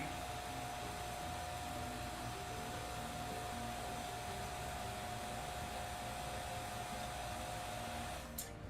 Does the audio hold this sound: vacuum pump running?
yes